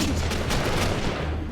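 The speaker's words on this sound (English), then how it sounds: "They shot me in the vent" Gunfire in the stealth video game Mark of the Ninja sounds as a brief, dense burst of sharp shots over a loud, rumbling game soundscape.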